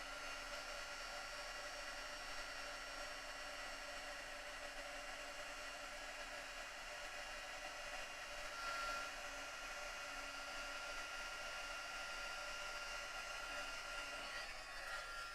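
Heat tool drying ink on cardstock, a faint steady whooshing blower hum that runs evenly for the whole stretch with no break.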